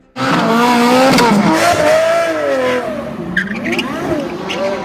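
A Lamborghini Revuelto supercar drives by on a road near tunnels, its engine roaring loud and close with rising and falling revs and a tire-squeal edge, then easing to a lower drone.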